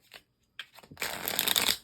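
A Mystic Mondays tarot deck shuffled by hand: a couple of short card taps and flicks, then a sustained close riffling shuffle filling the second half.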